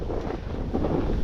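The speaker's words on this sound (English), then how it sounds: "Little wind tornado." Wind gusting across a snowy ski slope at Breckenridge, Colorado, during a small whirling wind tornado, a steady, loud rumbling buffet against the microphone with no voices.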